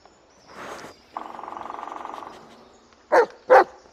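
A dog in the video game Blair Witch growls in a rattling snarl, then lets out two loud, close barks in quick succession.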